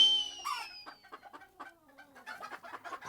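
A cartoon chicken clucks in quick choppy bursts after a brief whistling swoop, the clucks sharp and close with short gaps between them.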